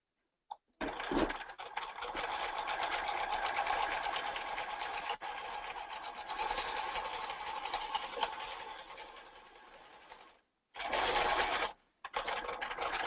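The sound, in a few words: serger sewing fabric edges of a ballet tunic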